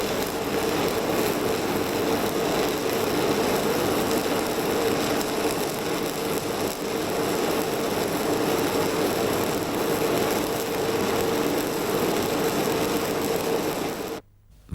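Stick electrode arc welding with a very short arc length, a steady dense crackling hiss running loud and unbroken for about fourteen seconds before cutting off abruptly.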